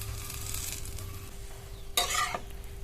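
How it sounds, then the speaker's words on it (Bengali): Stuffed mini parathas with mango pickle masala fry slowly in oil in a pan over low to medium flame, a soft continuous sizzle with a brief louder stirring scrape near the end. "লো থেকে মিডিয়াম ফ্লেমে ভাজবেন ধীরে ধীরে, তাহলে কিন্তু ময়দাটা সিদ্ধ হবে"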